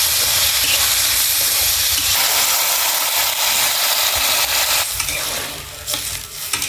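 Potatoes sizzle loudly in a pan on a wood-fired stove as salt and turmeric are stirred in, a steady close hiss with scraping.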